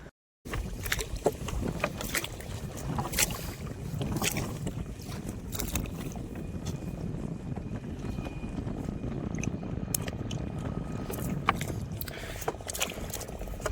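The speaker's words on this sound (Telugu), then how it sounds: "ఇప్పుడైతే గాలి గట్టిగా ఉంది" Strong wind buffets steadily across a canal during net fishing from a small boat, a loud continuous rushing roar with occasional knocks and bumps on the boat.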